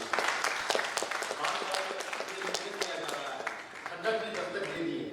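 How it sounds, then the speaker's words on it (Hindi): Audience applause after a speech at a Bihar convention, a steady patter of many hands clapping at moderate loudness with some voices mixed in, fading slightly toward the end. "इनके लिए पहले जोरदार तालियां बजनी चाहिए"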